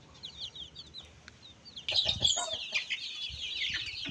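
Soft high chirps from chicks, then a burst of louder clucking and squawking from several nearly grown chickens nearby.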